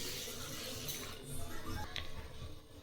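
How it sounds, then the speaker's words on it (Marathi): A glass of water splashes softly into a pot of spinach curry with moong dal, a faint, brief pour and trickle heard up close in a quiet kitchen. "यामध्ये मी 1 ग्लास पाणी टाकलेलं आहे"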